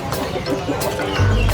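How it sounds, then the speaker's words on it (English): A rooster clucks and calls nearby at a bird market in Yogyakarta, Indonesia, a short burst of fowl sounds with a louder low rumble toward the end and faint chatter around it. "They're also selling roosters."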